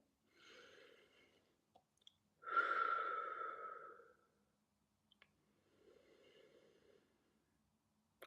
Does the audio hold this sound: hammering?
no